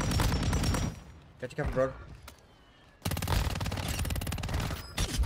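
Bursts of rapid automatic gunfire in Warzone Mobile, loud and close, break off into a quieter stretch and then resume as a long continuous volley, with a player speaking briefly in between.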